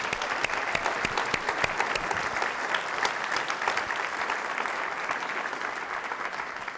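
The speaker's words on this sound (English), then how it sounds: "Let's have a round of applause." An audience at a medical school dean's annual address applauding, a dense steady clapping from many hands that fills the whole stretch at an even level, with no speech over it.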